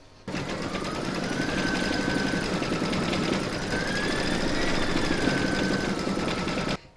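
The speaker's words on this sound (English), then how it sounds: "Next I'm stitching round number 5, and that's going to do the detailed stitching in this section." An embroidery machine stitching an in-the-hoop 4th of July coaster design runs in a steady, fast mechanical whir with rapid needle rhythm, close and continuous, with no talking.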